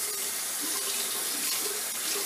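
Water running steadily from a tap while a razor is rinsed, a close, continuous splashing hiss without talk.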